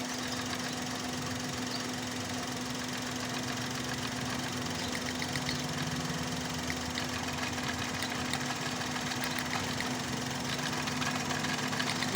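A misfiring small engine running during diagnosis, a steady, close idle with an uneven knocking beat throughout, continuous and without voices.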